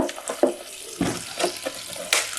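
Tap water splashing into a container of sprouting seeds, uneven gurgles and spatters arriving in irregular bursts, close and fairly quiet.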